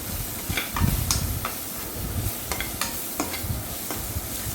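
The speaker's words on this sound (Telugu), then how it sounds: "ఈ కుక్ అయిపోయిన వెజిటేబుల్స్లో కారం వేసుకొని 1 స్పూన్ గరం మసాలా వేసుకొని కలుపుకోవాలి." Cooked vegetables for veg fried rice are stirred in a pan with chili powder and a spoon of garam masala, giving a steady close sizzle broken by repeated sharp scraping strokes of the spoon.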